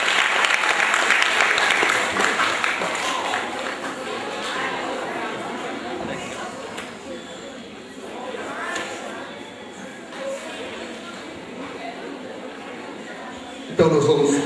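An indoor audience applauds two boys as they are welcomed. The clapping is loud at first, thins out to scattered claps, then swells briefly again at the end.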